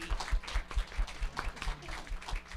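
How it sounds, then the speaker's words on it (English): A small gathered audience claps at a casual ceremony, a brief burst of irregular, moderately close applause that stays fairly light. "let's give Meg a round of applause."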